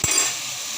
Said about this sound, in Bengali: ঢাকনা দিয়ে ঢেকে দিলাম